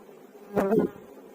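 Honeybees hum in a low, steady drone, with one bee buzzing louder as it passes close for a moment.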